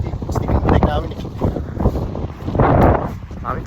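Strong, cold wind by the sea in Denmark buffets the microphone in loud gusts during a bike ride, with rushing noise rising and falling while a voice talks underneath.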